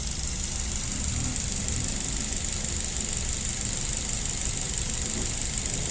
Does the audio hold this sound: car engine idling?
yes